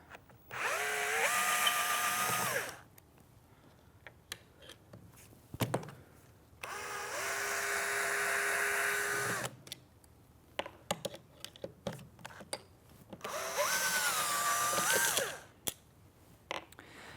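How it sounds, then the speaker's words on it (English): A power drill slowly loosening stuck bolts from T-nuts under the plywood carriage of a Contrology Pilates reformer, three separate whirring bursts of a few seconds each with rising and falling motor pitch, close, separated by quiet clicks and handling. "turn my drill just to slowly start, basically get them unstuck, and then I can remove them"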